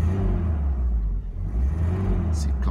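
Engine of a 1986 Alfa Romeo Spider running with a deep, steady low rumble close by, swelling slightly as it is revved, with a voice speaking over it.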